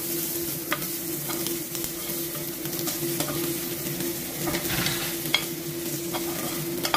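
Sliced garlic with green and red chili frying in a tablespoon of cooking oil, a steady close sizzle with light stirring scrapes and occasional utensil taps, no voices.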